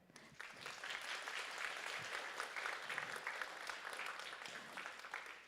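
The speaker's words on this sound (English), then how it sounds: "Please give a big round of applause to show your appreciation" Audience applause fills a science symposium hall for about five seconds, dense steady clapping at fairly even loudness with a faint voice or two underneath.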